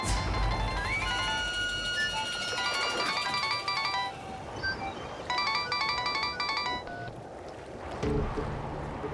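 A phone ringtone plays a repeating electronic melody, loud and close, in bursts over a faint background hiss.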